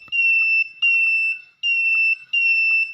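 An IoT gas leak detector alarm sounds repeatedly up close, giving four loud, shrill electronic beeps in an even on-off rhythm over faint background clicks, with no talk.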